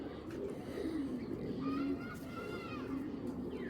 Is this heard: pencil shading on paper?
no